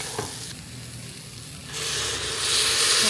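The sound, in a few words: green peas frying in a pan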